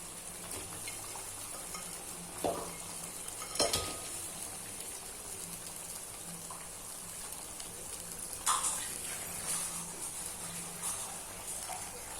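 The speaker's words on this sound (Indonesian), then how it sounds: "ini udah lumayan lama ditumis. Kemudian kita masukkan daging kambingnya." Goat meat stir-frying in a pan with sautéed spices for Acehnese goat curry, a steady close sizzle with a few sharp clinks and scrapes of a utensil against the pan.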